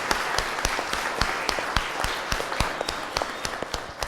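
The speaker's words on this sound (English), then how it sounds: "Can we give them a big round of applause?" An audience at a university talk on chronic pain, addiction and recovery breaks into a dense, steady round of applause, with many overlapping hand claps sustained evenly for several seconds and no voices over it.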